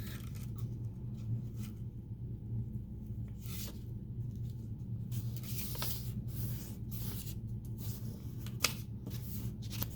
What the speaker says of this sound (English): Then I take half sheet of paper and I fold it in half.